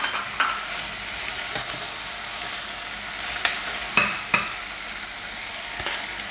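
Beetroot, carrot and potato sizzle in a pan while a spoon stirs them, a steady loud frying hiss broken by several sharp scraping clicks.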